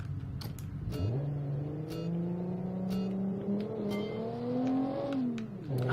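A turbocharged iron-block 3.8-litre V6 driving the rear wheels climbs steadily in pitch on a gravel hillclimb at Pikes Peak, its drone loud and continuous, with occasional clicks and knocks from the car.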